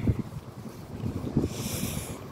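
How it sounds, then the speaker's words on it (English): Strong wind blowing outdoors, a steady rushing roar buffeting the microphone with low gusty rumble and no clear speech. "it's very windy right now."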